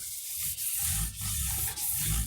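Someone sands a guitar neck's fretboard smooth by hand in quick back-and-forth rubbing strokes, about four passes, close and steady.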